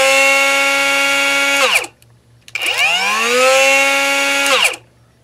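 Cordless 3-inch Saker angle grinder motor spinning up to a steady high whine, winding down, then starting again and running before stopping, loud and close with no talk.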